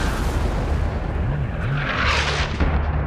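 Heavy cannon fire from a galley's bow guns in a film battle scene, a dense continuous roar of booms and blasts with no clear gaps.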